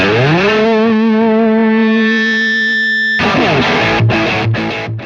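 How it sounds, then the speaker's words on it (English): Loud distorted electric guitar through a very loud amp, sustaining a swelling feedback tone that holds steady, then breaks into a burst of chugging, choppy chords. "it's impossible to get feedback such as this"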